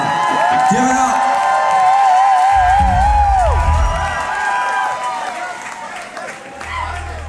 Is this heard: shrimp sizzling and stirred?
no